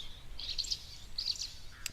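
Two short bursts of high chirping calls from a starling-like bird at a waterhole sound faintly over a quiet background, followed by a brief sharp note at the end.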